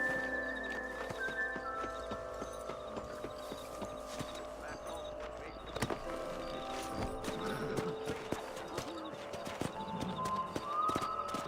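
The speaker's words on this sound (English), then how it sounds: "Monte no seu cavalo." Horse hooves clip-clop in the Red Dead Redemption video game, a steady rhythmic clatter running through the scene under game music and spoken dialogue.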